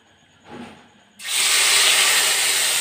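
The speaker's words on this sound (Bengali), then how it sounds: "এভাবে একটা একটা করে দিয়ে মাছগুলো ভেজে নেব।" Marinated hilsa fish hits hot oil in a wok, setting off a loud, sudden, sustained frying hiss close up, preceded by a brief softer sizzle.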